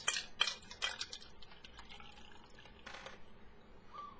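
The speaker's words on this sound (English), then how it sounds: "Pour into the largest glass that you have possible." A rum cocktail with pulp is poured over ice into a large Hefeweizen glass, with a few sharp clinks and splashes at the start followed by a softer, trickling liquid sound, close and fairly quiet with no talking.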